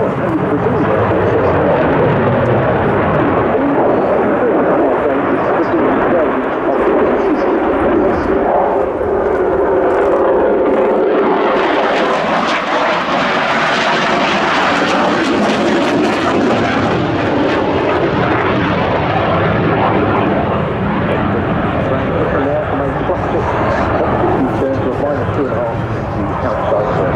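A SAAB JAS 39E Gripen jet fighter roars through a flying display at RIAT 2025, a loud, continuous broadband jet rumble that swells and shifts in pitch as it passes, with a voice talking over it throughout.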